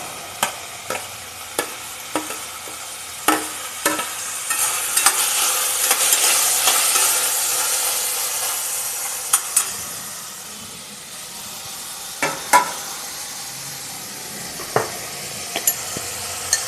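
Onions and tomatoes sizzle steadily in a pan while a spatula scrapes and taps against it at irregular intervals, close and moderately loud, with no talking.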